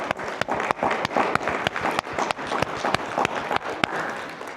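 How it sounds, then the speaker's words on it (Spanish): A church congregation claps together during a sermon, a run of close, fairly steady hand claps over a low crowd murmur. "Vamos a dar un aplauso al Señor."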